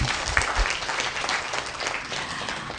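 Workshop participants give continuous, moderately loud applause from start to finish, a dense, even wash of clapping.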